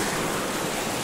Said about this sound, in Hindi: ये देखिए कैसे पानी बहते हुए आ रहा है